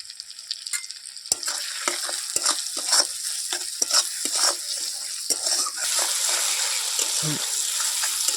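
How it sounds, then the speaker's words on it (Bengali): Chopped tomato and salt going into onions already fried red in a pan for a village-style prawn bhuna, with a steady close sizzle, sharp stirring scrapes and clinks of a spoon, and no talking. "পেঁয়াজগুলো লাল করে ভেজে নিয়েছি এখন দিয়ে দেবো টমেটো কুচি"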